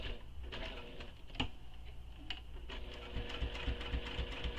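A sewing machine runs in short bursts of rapid stitching on a small fabric wristlet, with no back stitching, its ticking needle chatter broken by a sharp click and pauses.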